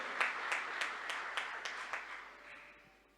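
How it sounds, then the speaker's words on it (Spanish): A church congregation claps together in steady, rhythmic applause, a roomful of hands beating in unison for a few seconds before tapering off and fading out. "Dale un fuerte aplauso a Jesús, porque se trata de eso."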